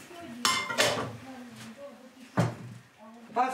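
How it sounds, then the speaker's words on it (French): Dishes and cutlery clatter in a home in Russia as crockery is gathered up: several close clinks and bangs of plates and metal utensils, with someone speaking between them. "Je prends la vaisselle."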